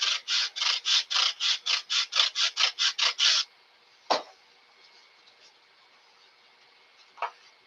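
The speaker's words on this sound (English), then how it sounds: "I think I just got a little bit to sand on this end." Sandpaper rubbed along the edge of a model airplane part in about a dozen quick, even strokes up close, then the sanding stops and a couple of faint clicks follow in a quiet room.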